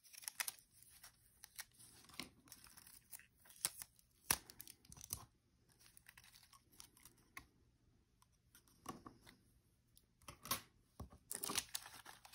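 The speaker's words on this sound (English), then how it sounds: "This is low tack tape that I'm using here, not actually Scotch tape" Low tack tape torn from a roll during a paper craft project, heard as several short, dry ripping bursts that come and go at moderate loudness over a quiet background, with no talking.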